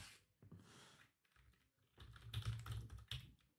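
Typing on a computer keyboard during a software walkthrough: a couple of short bursts of keystrokes, then a denser, louder run of rapid clicks, all close to the microphone and quiet overall, with no voice over them.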